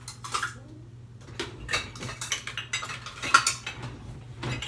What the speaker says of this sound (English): so let's stir it up a little bit